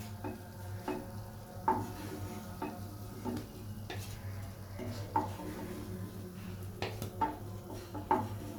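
Vegetable-made fish pieces fry gently in oil on medium-low heat, a soft faint sizzle beneath repeated light clinks and scrapes of a utensil stirring and turning them in the pan.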